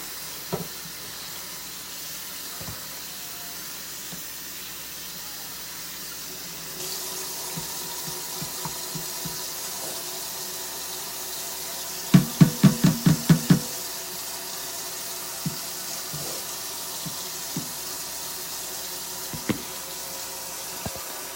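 Collard greens rinsed under a running kitchen tap, a steady soft wash of water with a cluster of sharp clicks and splashes midway and scattered small knocks, no talking.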